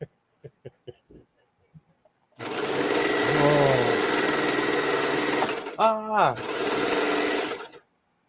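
Sewing machine stitching steadily for several seconds, a loud close mechanical whir that briefly changes speed near the end, preceded by a few light clicks.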